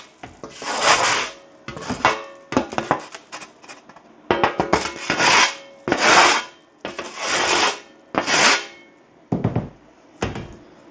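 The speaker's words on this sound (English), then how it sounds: "just kind of use it like a bench knife or something, and just scrape that off." A scrap piece of wood is used like a bench knife to scrape gunk off while setting up an xTool S1 laser engraver: about a dozen loud, rhythmic rasping strokes, close up, with short pauses between them.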